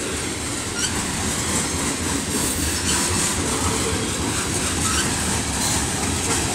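A Canadian National freight train rolls past a crossing in Effingham, Illinois, a loud, continuous roar of wheels and cars with faint clicking and squeal, no talk.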